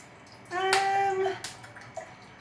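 Vinegar poured into a cup for a volcano science experiment, a single close, quiet pour lasting about a second with a rising liquid tone, followed by faint small clinks.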